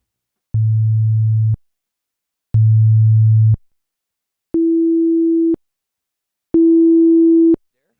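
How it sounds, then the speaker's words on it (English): Four separate steady test tones, each about a second long, pass through a TL Audio 5021 compressor: two low pure tones, then two higher ones, the last carrying added harmonic overtones, clean and loud with silent gaps between. "I'm going to run a sine wave through a compressor"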